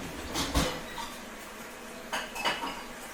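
Dishes and cutlery clatter and clink while being cleaned up in a home kitchen, two short bursts of rattling with a quiet pause between them.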